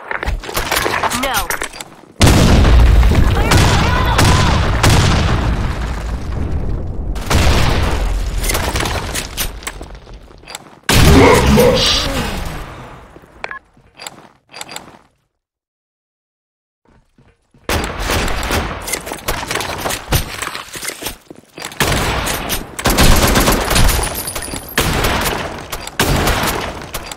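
Bursts of gunfire from the Blackshot online shooter game, rapid rattling volleys with booms and shattering, loud and dense, broken by a short silent gap, with players shouting over the shots.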